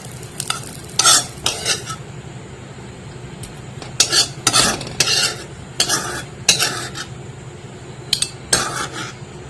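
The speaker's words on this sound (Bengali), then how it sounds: "আমার ফুলকপি ভাজা হয়ে গেছে" Cauliflower frying in oil while a utensil stirs it in the pan, with repeated bursts of scraping and clinking over a steady low sizzle, close by and with no talking.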